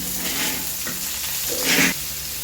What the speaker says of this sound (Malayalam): വെളുത്തുള്ളി മൂത്ത മൂത്ത് വരുമ്പോഴത്തേന് നമുക്ക് അതിനകത്തോട്ട് സവാള ഇട്ട് കൊടുക്കാം